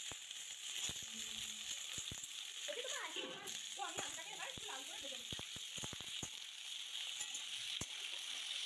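Beaten egg fries in a pan with a faint sizzle and scattered crackles, heard up close but quietly against a steady background hiss.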